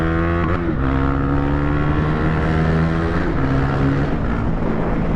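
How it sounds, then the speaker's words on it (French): Husqvarna Vitpilen 401 motorcycle exhaust revving loudly and close, a strong buzzing engine note with a quick throttle blip near the start, then sustained rising and falling revs. "voici au guidon de la Vitpilen 401 de Valentin. Sa petite ligne chante quand même plutôt pas mal."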